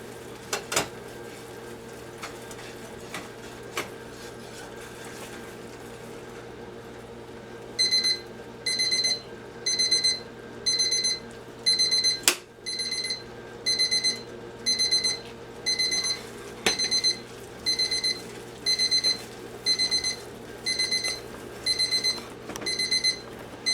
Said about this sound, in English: that was my oven preheating at 350